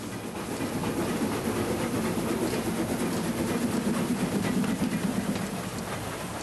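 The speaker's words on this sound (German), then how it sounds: "Eine Parallelausfahrt der Harzquer- und Selketalbahn." Two Harz narrow-gauge steam trains of the Harzquerbahn and Selketalbahn depart side by side, giving a steady, dense rumble and clatter of rolling wheels and chuffing at moderate distance, with no voices.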